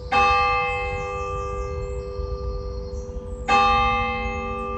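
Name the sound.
church bell ringing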